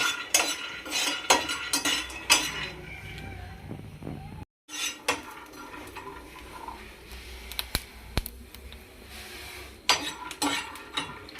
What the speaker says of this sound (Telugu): పల్లీలు మంచిగా వేయించుకోండి